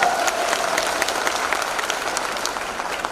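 Sustained audience applause at a business presentation, a dense steady patter of many hands clapping at moderate loudness with a faint background murmur throughout.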